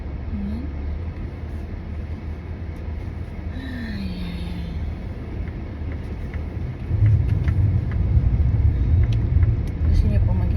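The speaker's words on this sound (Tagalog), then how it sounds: "Painitin ko na yung sasakyan." An older car's engine idles steadily while warming up on a snowy winter morning in Canada, a low continuous rumble that grows a little louder partway through, with brief talk heard over it.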